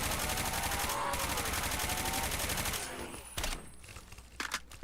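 Dense, sustained gunfire in a DOOM-based Call of Duty Tarkov mod, a steady loud barrage for nearly three seconds that breaks off into a few scattered sharper shots and quieter game noise.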